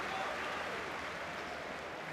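Crowd applause at an Oxford United versus Norwich City Championship football match, a steady broad wash of clapping from the stands lasting throughout, with no clear individual voice standing out.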